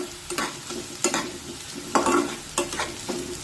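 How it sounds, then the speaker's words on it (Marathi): Curry leaves and onion fry together in a pan, a continuous sizzle marked by several sharp scrapes and stirs at irregular intervals. "ही कढीपत्त्याची पाने सुद्धा कांद्यासोबत परतून घेऊया"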